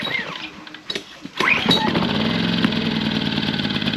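An Engel 2500 generator is pull-started cold on choke. A sharp rip of the recoil cord comes first, then the small engine catches and settles into a steady, loud, buzzy idle close by, with no voices over it.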